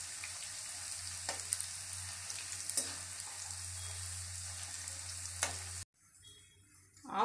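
Garlic cloves and curry leaves fry in hot oil with a steady, close sizzle and a few faint stirring scrapes, then the sound cuts out abruptly near the end.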